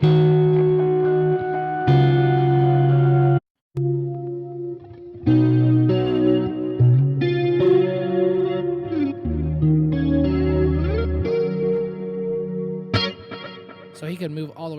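Electric guitar played through an acoustic patch effect in a hybrid rig, ringing chords and picked notes with chorus-like shimmer and a short gap partway, loud and steady throughout.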